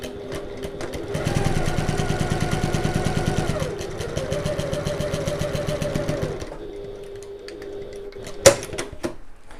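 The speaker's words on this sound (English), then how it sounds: "then we'll sew along this diagonal line." A domestic sewing machine stitches steadily along a diagonal seam on fabric for a two-tone strap, its motor whirring with a rapid even needle rhythm that changes pitch partway, then stops, followed by a few small clicks.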